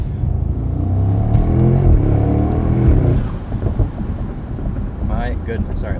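A 2024 Mercedes SL63 AMG twin-turbo V8 roadster engine revs and roars loudly through its exhaust, then drops back to a rumbling idle with wind noise buffeting the microphone; a voice is faintly present.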